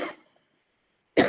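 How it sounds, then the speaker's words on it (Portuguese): A single close cough during a lecture on Brazilian constitutions, a short harsh burst that fades into near silence before a second sharp cough sound at the end. "Desculpa a tosse."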